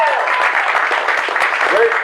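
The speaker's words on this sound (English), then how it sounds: "give her a round of applause" Audience applause at a State Senate candidate's speech event, a dense, continuous wash of clapping with some crowd voices mixed in, filling the whole short stretch at steady volume.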